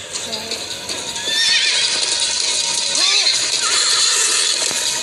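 In an animated Minecraft story, horses whinny and neigh loudly over steady hoofbeats and heavy rain, with a voice calling briefly amid the commotion.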